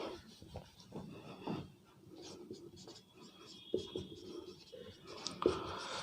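A teacher writing a question on a board in an English class, soft scratchy strokes in short bursts, faint and close, alternating with quiet pauses.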